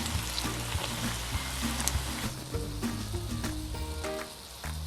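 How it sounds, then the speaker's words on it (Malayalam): Unnakaya, the sweet Malabar plantain dumplings, frying in hot oil over a flame and being turned until brown, giving a steady, close sizzle with scattered crackles and occasional utensil clinks. "ഇത് നമ്മുടെ ഉന്നക്കായ ഇങ്ങനെ ഫ്രൈ ആയിക്കൊണ്ടിരിക്കുകയാണ്."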